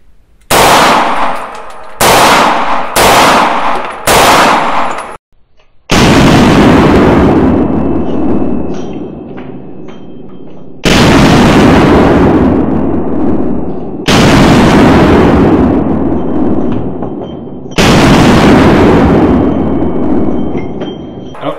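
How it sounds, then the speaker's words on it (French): Loud, close SIG Sauer P320C pistol shots at a shooting range, a fast string of four cracks followed by several heavier reports spaced a few seconds apart, each ringing out with a long echoing decay. "Allez, on va se faire du tir rapide."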